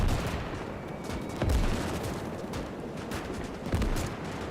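A machine gun fires from a defensive position in the WWII battle game Call to Arms - Gates of Hell: Ostfront, loud and close, with a steady rattle of shots and heavier thumps of impacts breaking through at intervals.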